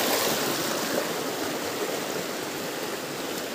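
A waterfall in a remote forest, a steady broadband rush of falling water that holds constant and loud throughout, with no voices over it.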